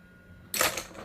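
A makeup brush dropped, a single sharp clattering impact followed by a short rattling tail, close and fairly loud after near silence.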